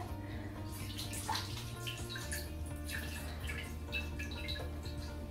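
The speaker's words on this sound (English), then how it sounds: "You can hear all the water plop it into the bowl." Rice water dripping from wet hair into a bowl, a quiet run of close, uneven drips and splashes over a steady watery background, with no talk.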